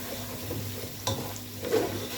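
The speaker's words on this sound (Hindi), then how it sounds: "मसालों के अंदर भी इसको अच्छी तरह फ्राई कर लेना है" Chicken frying with spices and turmeric in a pan for palak chicken, a steady close sizzle with soft stirring scrapes and one sharper clatter near the middle, no voices.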